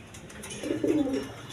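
Pigeons of the red Jacobin and Maltese breeds give a brief, soft, low coo close by, rising and fading within about a second against quiet background noise.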